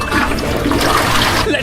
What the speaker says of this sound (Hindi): Yes, flush.